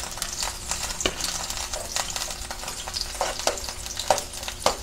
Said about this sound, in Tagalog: Habang pinapabrown natin ang bawang at sibuyas